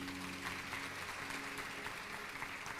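Church congregation applauding during a worship service, a soft, continuous wash of many distant hands over a low room hum, steady and unbroken for a few seconds.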